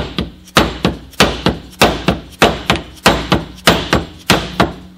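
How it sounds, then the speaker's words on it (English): Hammer knocking a misalignment spacer out of a King shock held in aluminum vise guards, a steady series of sharp, loud metallic taps, about two per second, with no talk. "see if we can knock that other spacer out"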